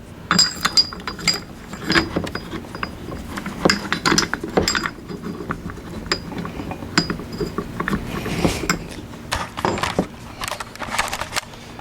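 A nut being hand-tightened onto a friction drive peg makes irregular small metallic clinks, ratcheting clicks and light scraping, close up and moderately loud, with no talking.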